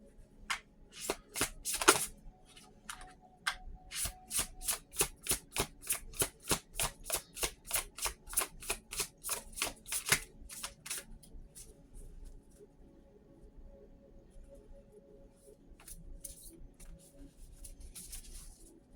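Tarot cards are riffled and shuffled in quick, crisp bursts, fast patters that run for several seconds before settling into a few quieter, scattered flicks.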